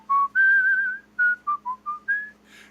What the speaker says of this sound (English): what was the weird metatextual whistling?